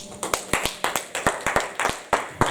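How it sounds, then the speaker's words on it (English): A church congregation clapping hands in worship, a quick uneven run of sharp claps close by over a low murmur of the room. "Clap your hands and celebrate Jesus."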